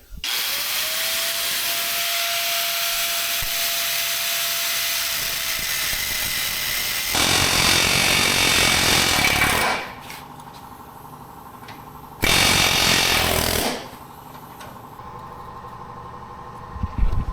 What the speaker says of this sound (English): you can knock them out with an air hammer